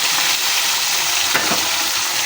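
Tilapia frying in a pan, a loud, steady close-up sizzle and crackle of hot oil running throughout, with no one talking.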